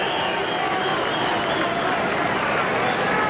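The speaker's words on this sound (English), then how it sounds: "getting a round of applause from the fans" Fans at a boxing event applaud and cheer a fighter in the ring, a dense, loud, continuous wash of clapping and crowd noise with no break.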